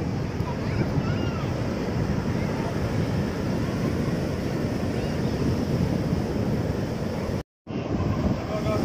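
Sea waves wash steadily onto Veli Beach in Kerala, a continuous broad surf roar with wind buffeting the microphone and one brief dropout near the end.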